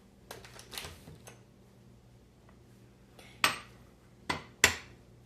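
An egg is tapped and cracked against a bowl of creamed cake batter, giving a few close, sharp clicks and knocks, quiet stretches between taps, then three crisp cracks.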